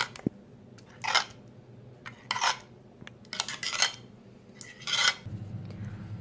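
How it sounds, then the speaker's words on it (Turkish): A fork pokes holes in the top layer of puff pastry for baklava, giving about five short scraping, crackly bursts spaced irregularly, close and fairly quiet, with no talk. "Baklavamızın üst tabanına da aynı şekilde çatal yardımıyla delikler açıyoruz."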